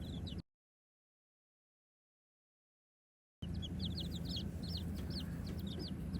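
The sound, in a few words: chickens clucking while fighting over a worm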